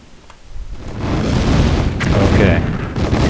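Heavy booming blasts from mammoth artillery firing in a real-time strategy battle, a deep rumbling explosion swelling after a brief quiet and sustaining loudly with scattered impacts.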